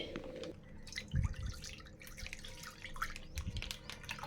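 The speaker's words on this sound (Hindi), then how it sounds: "उसके बाद 1 लीटर फुल क्रीमी दूध डालेंगे।" One litre of full-cream raw milk pouring into a kadhai that already holds a little water, a soft steady liquid splash with light drips, close by and with no talk.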